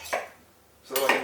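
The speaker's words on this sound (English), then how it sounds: "Just getting a knife here so that I can trim" Metal cutlery clinks twice as a kitchen knife is picked up, each contact a short bright rattle of silverware with a quiet pause between.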